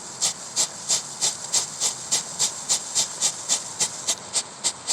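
A firework burning on a Lego figure's cape gives off a loud, close, sputtering hiss in quick, regular bursts that repeat steadily for several seconds, with no talking.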